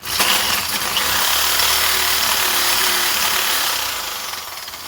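A loud, steady power drill whirs continuously at close range during work on a four-stroke string trimmer, an unbroken mechanical roar that eases slightly at the end.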